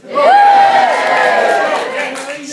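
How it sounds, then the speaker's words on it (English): Convention panel audience cheering for comedian Alan Davies, a loud swell of voices and whoops that rises sharply, holds, then gradually fades. "Cheering for Alan Davies."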